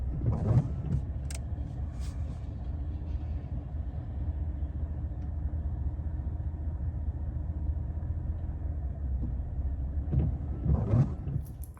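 A 2001 Chevy four-wheel-drive extended-cab short-bed pickup truck cruising down the road, heard from inside as a steady low engine and road rumble that holds throughout, with a few brief clicks and rattles near the start and end.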